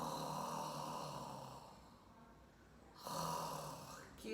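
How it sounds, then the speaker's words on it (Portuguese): Loud snoring, one long rasping inhale that fades into a quiet pause before a second harsh snore begins, close and alone with no talk. "Roncar em inglês, snore."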